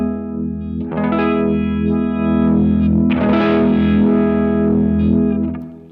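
An electric guitar runs through a Cornerstone Aquarium univibe pedal, its sustained chords swirling with a warm, throbbing phase-like modulation and boosted level, two strummed chords ringing out near and clear.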